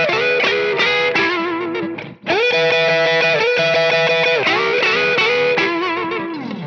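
Electric guitar plays a blues shuffle lick in E in standard tuning over a 12-bar blues, a steady driven, distorted tone with chordal stabs that cuts out briefly near the two-second mark, then carries on alone with no talking.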